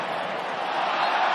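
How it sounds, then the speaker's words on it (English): Football stadium crowd at Tottenham versus Southampton gives appreciative applause, a steady, broad wash of clapping and murmur that swells slightly toward the end. "appreciative applause"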